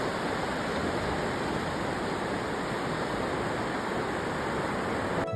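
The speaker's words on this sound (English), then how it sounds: "Take a moment to listen to the power of the waves." Ocean waves break on Seacliff Beach as a continuous, full roar of surf that holds steady and loud throughout, with no voices.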